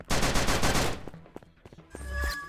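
Rapid automatic gunfire from the pixel shooting game Battle Gun 3D rattles in a dense, loud burst, followed by scattered single shots and softer game effects.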